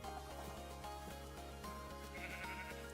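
Sheep bleat in a video game, heard over steady, looping game music that continues throughout. The bleats are moderately loud and there is no talking.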